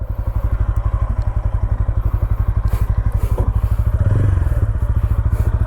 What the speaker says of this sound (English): now let's go for a short ride on the all new Tvs Ronin Agonda edition